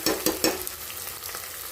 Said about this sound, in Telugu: ఒకసారి అల్లం మిరపాయ వేసుకున్న తర్వాత పచ్చివాసన వాసన మొయ్యే వరకు వేయించుకుంటే సరిపోతుంది